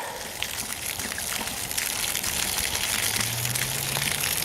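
Water pouring and gushing out steadily near an old running engine, a continuous splashing rush at moderate level with no talk over it.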